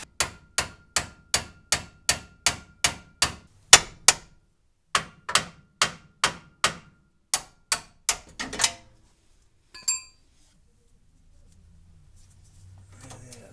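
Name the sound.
hammering a nut loose on a car control arm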